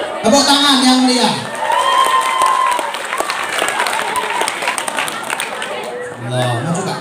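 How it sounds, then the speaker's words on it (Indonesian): An audience at a humorous Islamic sermon in Indonesia breaks into a burst of clapping, mixed with voices and crowd chatter, loud and close, settling as talk continues. "Tepuk tangan yang mulia."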